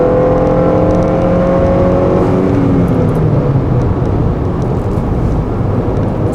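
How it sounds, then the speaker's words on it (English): A manual transmission car's engine drones loudly, its pitch falling as it is shifted down through fifth and fourth gear, settling into a rough, rumbling hum with strong wind and road noise. "So I'm gonna drop it down into fifth, drop it down into fourth,"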